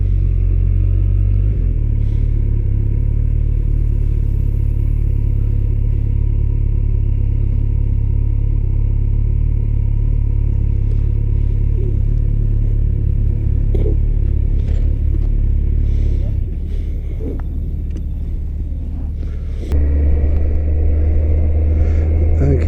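A car drives slowly through the Yarmouth car park and pulls into a space, a loud, steady low engine rumble heard from inside with small bumps and clatter, dropping briefly near the end before resuming.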